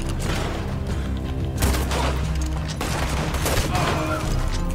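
Rapid bursts of gunfire from a Red Dead Online shootout, loud and dense, with repeated shots and booms running the whole time against a busy game mix.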